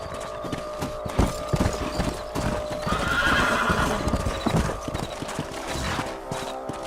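Horses in the video game Red Dead Redemption clip-clop at a steady trot, hooves close and rhythmic, with a horse whinnying partway through and faint background ambience.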